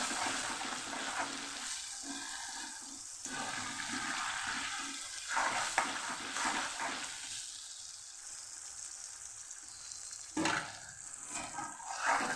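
Steady sizzling and crackling of masala with a little added water in a pan for stuffed brinjal and potato curry, with soft stirring sounds and a brief louder burst near the end.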